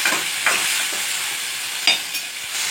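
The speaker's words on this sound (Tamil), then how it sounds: "வெங்காயம் பச்சை மிளகாய் வதக்கினதுக்கு அப்புறம் தக்காளி போட்டிருக்கோம்" Tomatoes sauté with onions and green chillies in a pan, a bright hiss broken by a few scraping stirs of a spoon, close and loud with no voices.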